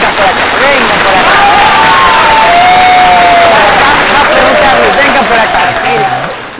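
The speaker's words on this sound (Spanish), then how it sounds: "vamos a recibir con fuertes aplausos desde ya." An audience claps and cheers as guests dressed as Frozen characters are welcomed on a television program, a loud sustained crowd roar with shouts and children's voices throughout.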